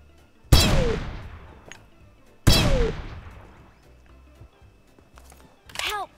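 Gunshots in a battle royale shooter game, two loud sharp reports each trailing into a long decaying echo, followed by fainter background game sounds and a brief metallic chirp near the end.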